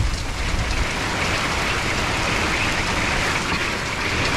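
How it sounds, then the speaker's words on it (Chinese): Hail driven by strong wind pelts the ground outdoors, a dense, steady hissing rattle with no pauses, loud and continuous throughout. "看向地上这个大风吹着这个冰雹"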